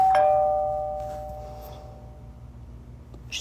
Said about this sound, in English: It's just a doorbell.